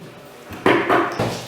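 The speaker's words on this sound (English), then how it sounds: "Knock on the door." A door gets two or three quick, firm knocks that sound close and fairly loud, with a short pause between them in an otherwise quiet room.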